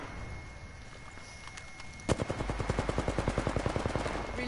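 In a video game, rapid automatic gunfire begins with a sharp loud shot and continues as an evenly spaced burst of about a dozen punchy reports over a low ambient hum.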